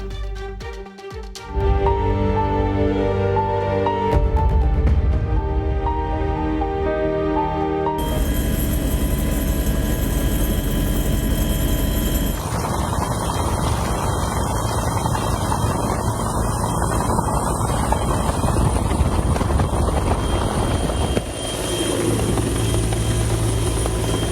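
A rescue helicopter's loud, steady rotor drone and engine whine fill the whole stretch, close by and continuous, during flood rescues.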